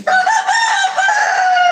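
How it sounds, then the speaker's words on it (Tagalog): A loud, close rooster crow rings out alone in one sustained call. "Wala, ang ingay yung manok."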